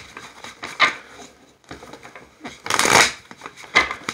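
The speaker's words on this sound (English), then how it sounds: "I'm shuffling the cards" A deck of tarot cards is shuffled by hand nearby, producing bursts of papery riffling and slapping in irregular spurts, with one longer, louder riffle near the end and no talking.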